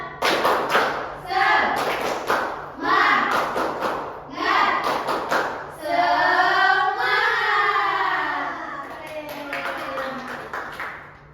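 A class of children performs the rhythmic Indonesian "tepuk semangat" spirit clap in a classroom, loud bursts of hand claps in patterned groups mixed with chanted young voices, followed by a sustained group chant near the end.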